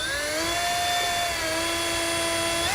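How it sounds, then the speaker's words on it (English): A small power drill whines at a high, steady pitch that dips slightly as it bites, close and continuous for a few seconds, drilling an opening on a 2014 Jeep Wrangler. "Now I'm going to use a small drill bit"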